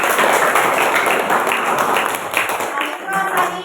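A classroom audience claps for students, giving a steady, dense patter of hands that fills the whole short stretch at close range.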